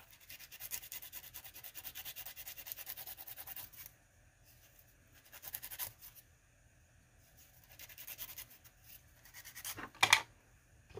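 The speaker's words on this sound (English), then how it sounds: "now I'm going to take this file and file down that head just a bit" A hand file scrapes down the head of a small nylon screw used to repair an action figure limb, with quiet, rhythmic rasping strokes coming in several bursts and separated by pauses, ending in a short sharper scrape.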